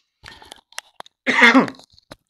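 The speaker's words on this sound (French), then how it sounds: "Je vais tousser." A single harsh cough bursts out after a few soft clicks and small mouth sounds, close and fairly loud, then quiet returns.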